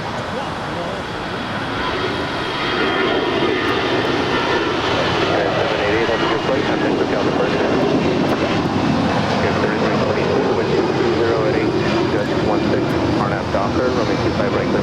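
An airliner at LAX powers down runway 25 right for takeoff, a broad, steady engine roar holding loud and continuous throughout with no pauses.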